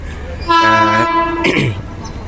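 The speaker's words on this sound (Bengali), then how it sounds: "আমাদের রানাঘাট শিয়ালদা লোকাল দ্রুত গতিতে ঢুকছে" A Ranaghat–Sealdah local train speeds into Dum Dum station, sounding one loud, sustained horn blast over the rumble of the rails, followed briefly by a voice.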